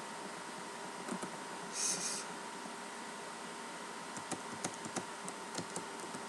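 Java code is typed on a computer keyboard, with soft scattered key clicks over a steady background hiss, quiet and close, with no talking.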